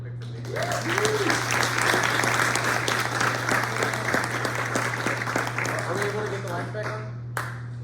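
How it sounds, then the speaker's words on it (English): Applause from an audience after an evening talk, many hands clapping in a lively, continuous patter over a constant low hum, with a voice or two speaking briefly through it. "Another round of applause really"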